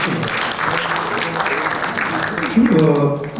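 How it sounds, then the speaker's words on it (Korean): Audience applause at a breakfast seminar with the Seoul mayor: a steady wash of clapping from a seated crowd, with a voice speaking over it near the end. "박수 한번 쳐주십시오"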